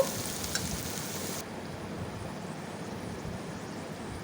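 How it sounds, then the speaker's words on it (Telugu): Curry leaves frying in hot oil for a gourd and carrot milk curry, a steady close crackling sizzle that starts with a slightly brighter spatter and then settles into an even hiss. "ఈ విధంగా వేయించుకున్నప్పుడే 2 రెబ్బలు కరివేపాకు కూడా వేసుకుందాము"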